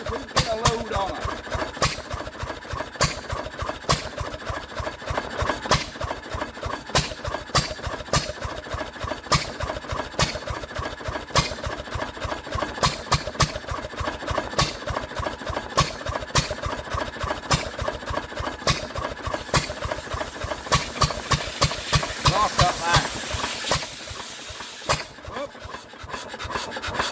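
A Ruston PB9 stationary engine runs with a steady, rapid chuffing beat and loud mechanical rasping throughout, the rhythm holding even until near the end, where it falters briefly.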